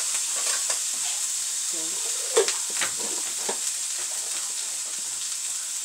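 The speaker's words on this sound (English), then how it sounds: "Let's put a little garlic in there." Garlic sizzling in a pan under a steady high frying hiss, with occasional stirring scrapes and clinks; a voice speaks briefly.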